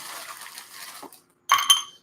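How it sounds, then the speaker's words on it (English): Diamond-shaped ice cubes made from tap water clink in a glass while an Old Fashioned cocktail is prepared: a soft rattle first, then after a short pause a bright, close clatter of ice against glass. "Check out that diamond shaped ice cubes."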